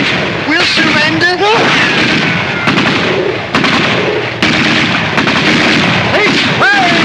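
Gunfire in a Laurel & Hardy movie, a dense barrage of loud shots and bursts with shouting voices mixed in, continuous and close across the whole stretch.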